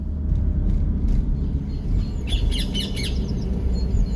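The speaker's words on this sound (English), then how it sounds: "I can hear the birds tweeting in the trees overhead." High chirping bird calls in short bursts over a steady low rumble of traffic, the tweets clustered toward the middle and end.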